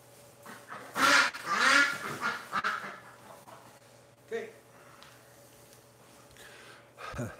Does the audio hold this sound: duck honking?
yes